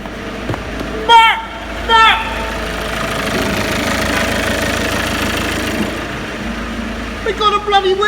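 Ford Mondeo Mk5 engine idling steadily after a snapped timing chain repair, a close mechanical running hum with excited voices cheering over it at the start and end.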